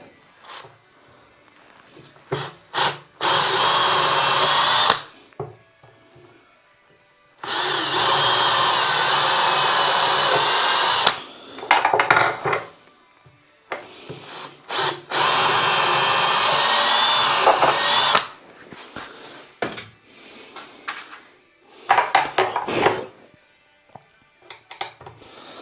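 A power drill drives black screws into oak for a bespoke sink at a Portugal farmhouse renovation: repeated loud whining bursts of several seconds each, separated by short quiet gaps and a few brief clicks.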